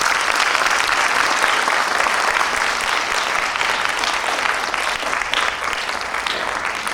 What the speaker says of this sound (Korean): 힘찬 박수 다시 한번 부탁드립니다.